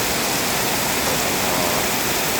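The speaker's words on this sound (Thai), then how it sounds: "ให้พี่น้องได้ดูบรรยากาศตอนฝนตกนะครับ" Heavy rain pours down in a dense, unbroken hiss, loud and close, with no other sounds standing out.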